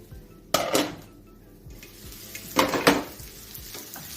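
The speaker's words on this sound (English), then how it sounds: "So I'm going to give this other one a stir." A spoon or spatula stirring food sizzling in a pan, with a few sharp metallic scrapes and clinks against the pan over a steady soft frying hiss.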